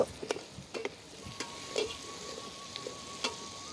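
Onions and chilies softening in a pan over a fire in an outdoor forest setting, a soft continuous sizzle broken by occasional stirring scrapes and clicks, fairly quiet with no talking.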